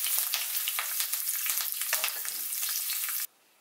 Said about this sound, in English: To this, add 4 to 5 green chillies and some curry leaves.